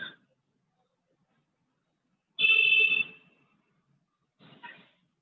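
A phone rings in short bursts: a brief chirp, then a louder ring of about a second, then a shorter fainter one, with silence between and no voices.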